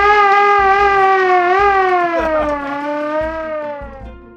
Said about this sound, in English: This is actually an East German air raid siren hand cranked.